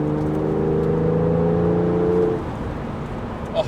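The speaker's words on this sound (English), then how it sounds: "that noise that flat 6 makes is just absolutely enticing" A Porsche 911 Carrera 4S (996-generation 2004 cabriolet) flat-six engine accelerates with a loud, steady rising drone that cuts off sharply after about two seconds, leaving a lower rumble of road and wind noise.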